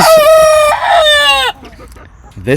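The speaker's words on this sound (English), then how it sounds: "I love having chickens and roosters. I think it's funny. They make these noises." A loud, close rooster crows with a long drawn-out call, followed by quieter clucking and scattered farmyard sounds.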